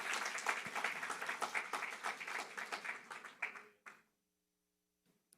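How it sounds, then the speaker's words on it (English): Church congregation clapping together in a mighty clap offering, a dense burst of applause that fills the room for nearly four seconds, then cuts off abruptly into near silence. "Can we give a mighty clap offering to our Lord and Savior?"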